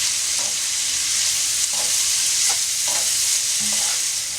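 Onions sauté in olive oil in a large pot, giving a constant close sizzle under repeated scraping stirs.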